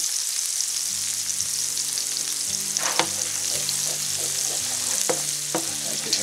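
Paprika sizzles steadily in a paella pan, a dense, continuous frying hiss with occasional stirring scrapes and clinks near the middle and end, close and fairly loud, with no talking.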